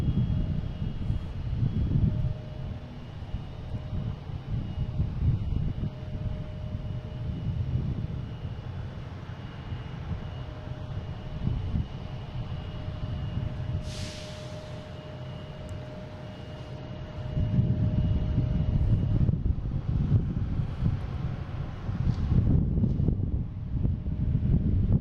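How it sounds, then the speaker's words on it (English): An Azores Airlines Airbus A321neo lands at Boston Logan, heard as a continuous low jet engine roar from a distance with wind buffeting the microphone, swelling louder near the end. "But next coming in is Azores, A321neo, coming from Ponta Delgada."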